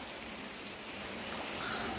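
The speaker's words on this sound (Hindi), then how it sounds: "झमाझम बारिश।" Heavy rain pours down outdoors in Jhansi, a dense, steady hiss that stays even throughout with no voices.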